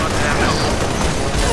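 Dense, continuous gunfire in the Halo Reach shooter game, with overlapping shots and blasts from many weapons filling the scene; a player talks over the steady combat noise.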